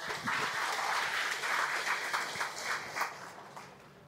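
An audience claps at a ceremony swearing in village heads in Semarang: a moderate, fairly distant patter of hands that fades toward the end, with no talking.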